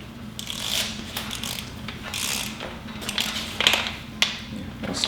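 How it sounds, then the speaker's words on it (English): A torque wrench clicks in a few sharp, spaced snaps while bolts are tightened on a Chevy 6.2L LT1 V8 engine during assembly, with faint ratcheting and handling noise between clicks. "Those torque wrenches."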